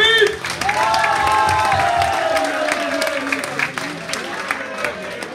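An audience applauds and cheers after a Dutch show performance, dense clapping throughout with shouts and a presenter's voice over the crowd at the start.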